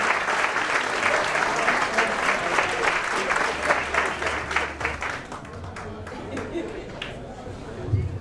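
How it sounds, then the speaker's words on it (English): Applause from diners at a retirement dinner, with loud, sustained clapping from a room full of people that gradually thins out and quiets toward the end. "Let's give a nice round of applause."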